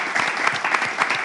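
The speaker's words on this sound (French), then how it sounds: "On va juste les applaudir." An audience claps for a graduating first class of students at a ceremony in Lomé, with steady, moderately distant applause filling the whole moment.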